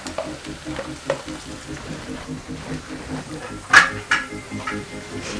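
Carrots cooking in a pan for a healthy vegetable dish, with faint steady frying and a sharp clatter of a utensil against the pan partway through, under a low background hum and some speech.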